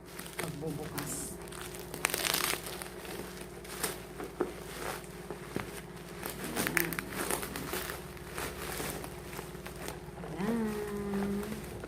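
Packaging crinkles and rustles as a package holding a wifi smart CCTV camera is torn open by hand without scissors, a steady close crackling over about twelve seconds with a voice talking throughout.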